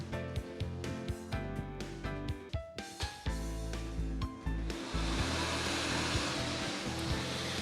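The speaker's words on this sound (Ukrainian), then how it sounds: "Вмикаємо лототрон." The blower of a Ukrainian Megalot lottery ball-drawing machine switches on partway through, a steady airy roar that rises suddenly and continues loudly over rhythmic background music.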